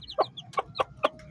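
Native chickens cluck in a quick series of four short, sharp calls, close by, with soft peeping in between.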